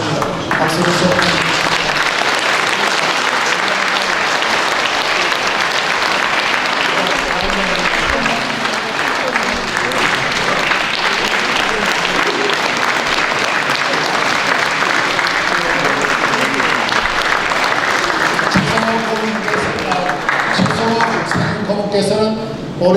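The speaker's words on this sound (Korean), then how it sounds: "박수 주세요." An audience applauds steadily and loudly for over twenty seconds at a Syngman Rhee 149th birthday commemoration in Jeongdong First Church, with voices mixed into the clapping and a speaking voice rising near the end.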